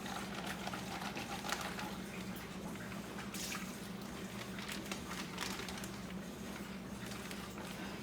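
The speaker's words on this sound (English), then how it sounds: "I'm actually going to take some hot water and swish it around in this bag and try to get a little bit more of the fat out of it" Hot water swishes and sloshes inside a bag to rinse out leftover chicken fat during home stock-making. The liquid movement is soft, continuous and fairly faint, with small splashes and drips throughout.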